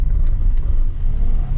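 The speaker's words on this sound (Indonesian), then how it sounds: "Wah, mobil-mobil gak kuat nanjak nih." Cars labouring up a steep mountain road at a campervan park near Batu, Malang, with a steady, loud engine and road rumble filling the whole moment.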